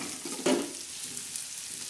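Dried fish (sukat) roasts in a pan with salt, giving a soft, continuous sizzle and a brief stirring scrape near the start, close by and fairly quiet.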